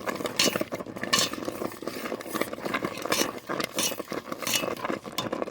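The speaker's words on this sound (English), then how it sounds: "I'm doing a little bit of mashing just to try to break up some of the clumps" Muscadine grapes are mashed in a pot of thickening homemade jam, with a utensil clinking and scraping against the metal in irregular, repeated strokes, close and moderately loud.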